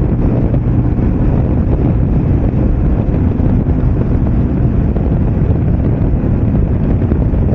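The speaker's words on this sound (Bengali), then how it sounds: "ছুটন্ত আমার বাইক।" Motorbike riding on an open road in late afternoon, heavy constant wind roar buffeting the microphone with a low rumble underneath, loud and unbroken.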